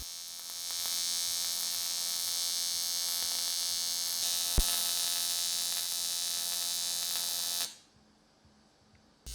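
A TIG welder works on electric cargo bike parts flat on a table, giving a steady high electric buzz and hum that runs for several seconds at an even level, then cuts off abruptly near the end, leaving quiet.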